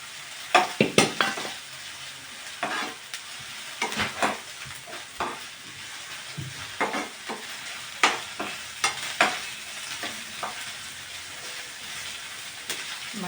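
Onion, green chili and curry leaves frying in a pan, a low background sizzle broken by frequent sharp spatula scrapes and knocks in irregular bursts, fairly close and with no talking.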